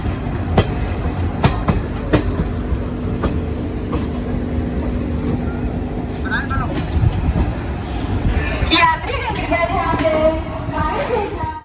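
An Anand Vihar–Saharsa Garib Rath special train runs on the line to Jhanjharpur Junction in Bihar, with a steady close rumble, sharp rhythmic wheel clicks, and brief tonal squeals and whines near the end.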